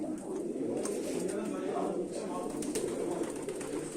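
Pigeons cooing in a loft, a soft continuous murmur of low burbling coos close by, with someone talking over them.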